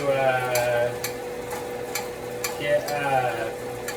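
Chopped garlic sizzles and crackles in a hot pan for ramen, with spoon scrapes and stirring taps over the steady frying hiss, close and busy.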